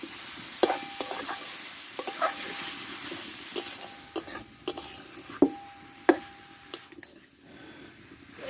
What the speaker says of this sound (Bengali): ওদের একসঙ্গে ভালোভাবে কষে নেব সব শুধু একসঙ্গে এবার কষতে থাকবো